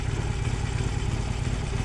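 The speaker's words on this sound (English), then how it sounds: "it thinks about it for a bit and then starts up its engine" A 2020 Harley-Davidson Forty-Eight motorcycle engine turns over and fires up, settling into a steady, loud, close rumble that runs unbroken without any talk.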